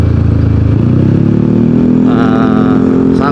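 A motorcycle ridden gently along a village road on a Sumatra tour, its engine running loud and close as a steady, throbbing drone, with a brief rise in pitch toward the end.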